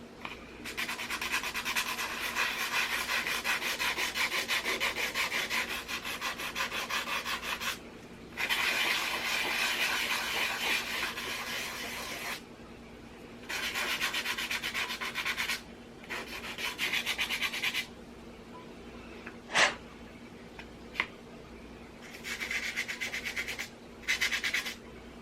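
Sandpaper rubs on a wooden collage frame in long, steady bursts of close, harsh scratching, broken by short pauses and a few sharp taps, with no voices.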